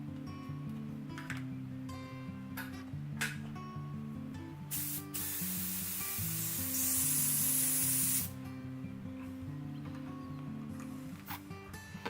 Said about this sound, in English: give that a bit of a mix in the airbrush